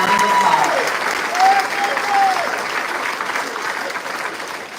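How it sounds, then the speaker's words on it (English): A graduation ceremony audience at a technical and career school claps in a steady, full round of applause, fading slightly toward the end, with a faint tonal sound sliding through early on. "Let's give these guys a round of applause."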